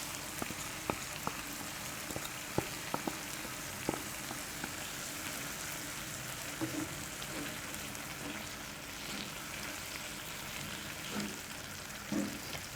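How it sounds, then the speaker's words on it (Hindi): Chicken with yogurt frying on a tawa with onion, tomato and spices, a faint soft crackle with scattered sharp clicks from stirring, no voices. "दही को चिकन में अच्छी तरह मिक्स करें और इसे तकरीबन 2 से 3 मिनट तक भूनें।"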